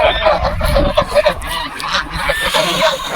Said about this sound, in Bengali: ওগুলো হচ্ছে রাজহাঁস বলে এগুলো হচ্ছে রাজহাঁস মানে এগুলো বড় হাঁস